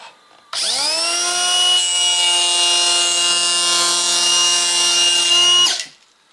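A Makita cordless 3-1/4-inch power planer cuts across a wooden board in one continuous, loud pass of about five seconds, its steady high whine starting abruptly and cutting off near the end, with no talking.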